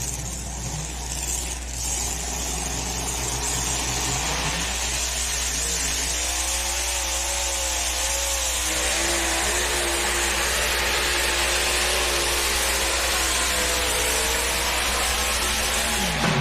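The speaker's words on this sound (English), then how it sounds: "we've got 3-time ring winner Kent Crowder, our test puller here on the South Track." Diesel pulling truck engine at a truck and tractor pull on a dirt track, a loud sustained roar that rises and wavers in pitch, heard from a distance over a constant crowd and arena background.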